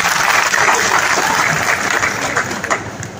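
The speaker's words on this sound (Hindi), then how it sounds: "तो तालियां बजाकर बताइए" Audience claps steadily at a foundation-day celebration of a citizens' council in Kolkata, a dense, continuous round of applause that eases slightly near the end.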